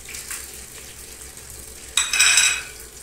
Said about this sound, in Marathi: मी आता याच्यामध्ये खडे मसाले घालते उरलेले.